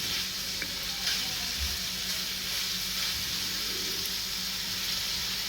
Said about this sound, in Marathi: चांगली पुन्हा परतून घेतो आहोत, ढवळून घेतो आहोत छान सगळीकडे व्यवस्थित.